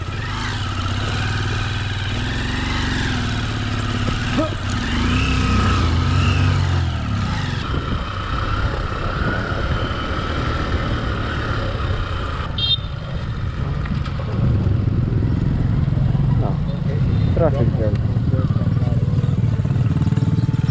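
Honda XR150L motorcycle engine labouring steadily up a hill, a continuous loud low drone with rising and falling revs, and a few faint voices underneath.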